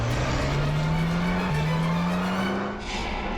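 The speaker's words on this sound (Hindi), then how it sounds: "पीछे यूटर्न लो ना और यहाँ दाई ओर से निकालो गाड़ी, जल्दी" A car makes a hurried U-turn on a blocked road, its engine tone rising steadily with a brief skid-like squeal, close and loud throughout with no talking.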